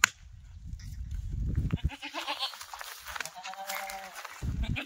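Goats at a farm, including two sister does from the same mother, bleat in a few close, wavering calls between rustling and handling noises.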